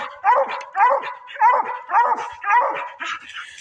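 A bluetick coonhound bays at a raccoon it has treed on a warm night. About six loud, close barks come in an even rhythm, roughly one every half second, with no other sound around them.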